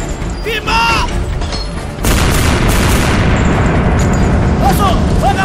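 A cannon fires in a dramatized historical naval battle: a single heavy blast about two seconds in, followed by a sustained roaring rumble, with shouted voices before and after.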